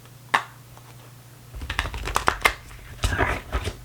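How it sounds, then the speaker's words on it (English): Fuzzy-edged tarot cards being shuffled by hand, close up: a lone snap, a pause, then a run of papery riffling and crinkling bursts that grows busier toward the end. "Let's get another good shuffle."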